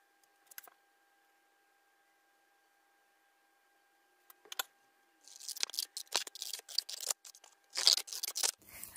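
Paper is cut to size with scissors for a room decor craft, a few isolated snips at first, then a denser run of crisp cutting and rustling close by, with no talking.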